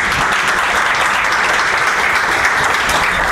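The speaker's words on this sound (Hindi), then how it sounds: "एक बार जोरदार तालियों से मैम का स्वागत करिए।" Loud, steady applause from an audience welcoming a woman guest to a discussion event, dense clapping filling the whole stretch without a break.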